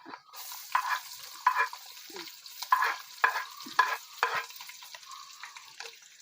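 Urad dal and shallots frying in a pan for a Kerala tender jackfruit dish, a soft sizzle beneath a repeated rhythm of spatula strokes scraping the pan, close and fairly quiet.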